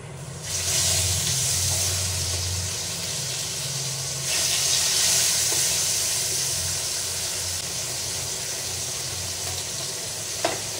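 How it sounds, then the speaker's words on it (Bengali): Fish frying in hot oil in a pan, a steady close sizzle and hiss that swells around the middle, with a brief clink near the end and no talking. "মাছের ডিমটা ভাজা হয়ে গেছে, এখন মাছগুলো ভাজবো।"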